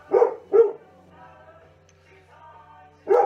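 A household dog barks at close range, two sharp barks at the start and another at the end, with quieter whining or vocal sounds in between.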